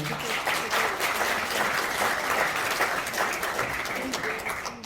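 Audience at a cultural center director's inauguration ceremony giving hearty applause as two officials take the stage, dense steady clapping from a full hall, loud and continuous throughout.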